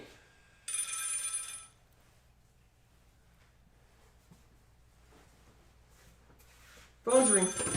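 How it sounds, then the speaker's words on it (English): Telephone ringing at home, two loud electronic bursts separated by a long quiet stretch, the first lasting about a second, the second starting near the end. "Phone's ringing."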